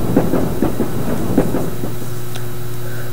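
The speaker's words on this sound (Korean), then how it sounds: "이 열차는 곧 종점에 도착합니다." A passenger train runs on rails, giving a loud, steady rumble with a rhythmic clickety-clack of wheels over the track joints, close and continuous.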